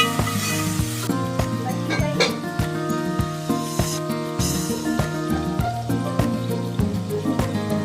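Leftover marination masala for restaurant-style chicken mandi hits a hot pan with a steady frying sizzle, stirred with occasional utensil clinks, close and continuous, over a constant tonal background hum.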